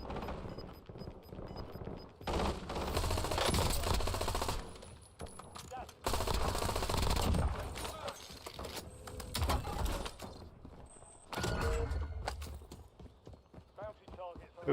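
Gunfire in the Warzone video game, bursts of shots and automatic fire in loud stretches with quieter gaps between them, mixed with game noise and voices talking over it.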